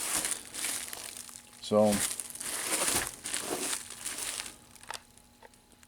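Plastic wrap being cut and crinkled off a 1978 Midway Clowns 8080 arcade circuit board set with a knife, close loud rustling and crackling throughout, with a brief spoken word partway through.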